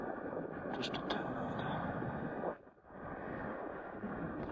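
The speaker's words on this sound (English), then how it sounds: "I can hear the drone trying to fight the wind" A DJI Neo drone flying over a grassy hillside in gusty wind, a steady whirring buzz mixed with heavy wind rumble against the microphone that dips briefly and then returns.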